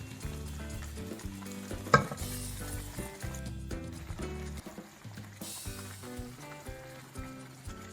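A cashew mushroom curry sizzles and bubbles steadily in a pan as raw cashews are added, with a brief clatter of stirring near the start over constant frying hiss and no talking.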